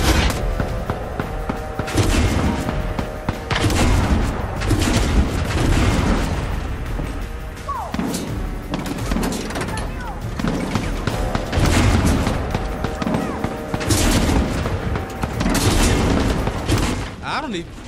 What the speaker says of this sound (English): Synchronize the cannons so we can blast them open!